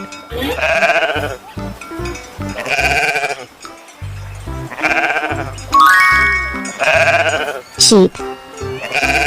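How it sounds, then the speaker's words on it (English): Cartoon sheep bleats several times in a children's farm-animal animation, loud quavering calls recurring in a steady pattern over bouncy music. "sheep,"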